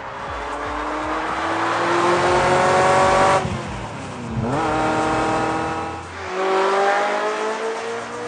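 The engine of Michael Schumacher's Ferrari F355 GTS revs hard through repeated rising surges, a loud, close, high-pitched wail that dips between gear changes and climbs again.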